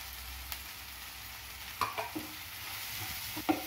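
Onion, tomato and pepper, cumin and coriander powders frying in a pan give a quiet, hissing sizzle with a few soft scrapes of stirring, close but faint with no voices.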